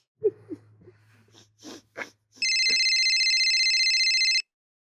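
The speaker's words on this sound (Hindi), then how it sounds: "अब आया फोन इसका।" A phone ringtone bursts in after a few scattered breaths and snorts, then rings as a steady, loud electronic tone for about two seconds before cutting off.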